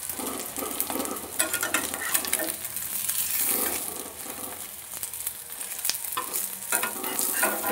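Flour, potato and egg snacks fry in hot oil in a pan, giving a steady, close crackling sizzle with scraping stirs and small clinks throughout, and no talking.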